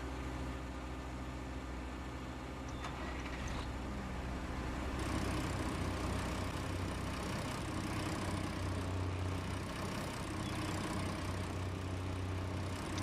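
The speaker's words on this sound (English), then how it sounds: "Engine running or not?" A farm vehicle engine in Farming Simulator 19 idles and runs steadily for the whole stretch, a dense, low, droning rumble with no speech over it.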